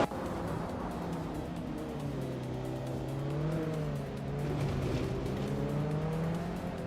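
Racing cars in a video game, engines droning and shifting pitch as they battle closely for position, with a steady continuous roar and occasional tire noise, no voices.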